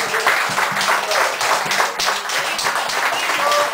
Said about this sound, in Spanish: Entonces, aplausos para ellos.